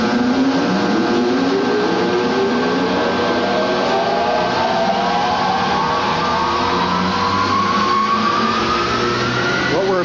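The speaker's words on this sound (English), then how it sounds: "What we're observing now is the starting transient of the drive motor." The drive motor of a DePalma N machine spins up from a start, its whine climbing steadily in pitch over about ten seconds under a constant loud mechanical drone.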